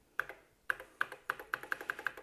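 Keys tapped on an Osborne 1 computer keyboard, a run of about nine crisp, separate keystrokes that speed up toward the end, close and clear with no talking.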